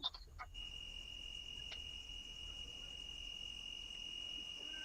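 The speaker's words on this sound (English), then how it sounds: "you got some loud crickets out there next to you" Loud crickets chirp outdoors in a steady high, continuous trill close by, with a faint brief knock at the very start and no talking.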